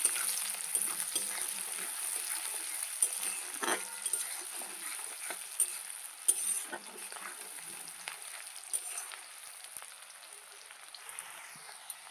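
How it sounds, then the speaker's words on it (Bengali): Chopped onion and green chillies frying in oil, a quiet steady sizzle with scattered pops and occasional stirring scrapes from a spatula. "পেঁয়াজটা একটু ভালোভাবে ভেজে নেব।"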